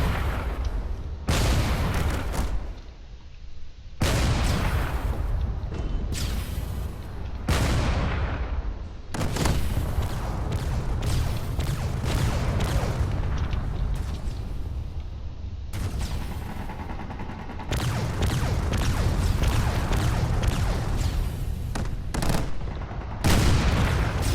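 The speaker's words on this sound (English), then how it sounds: "Both going really high up here, trying to do whatever damage they can with those cannons" Drones fire cannons at a cruiser in a video game. The gunfire is loud and continuous, with heavy booming volleys and rapid bursts repeating throughout, broken by a few short pauses.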